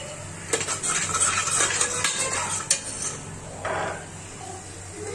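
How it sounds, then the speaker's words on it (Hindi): Peas and paneer go into a cooking pan amid clattering metal utensils, scraping and stirring against the pan, loud and close with a few sharper clanks, no voices. "मतलब मटर डाल के पनीर डालूंगी"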